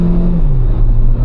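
A Tata Sierra SUV's engine rises from about 1500 RPM toward 5000 as the driver floors it from drive, a loud steady drone heard from inside the cabin with the pitch dipping slightly partway through.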